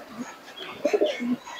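Teddy pigeons coo close by in a brief soft burst of low throaty warbling notes lasting about a second.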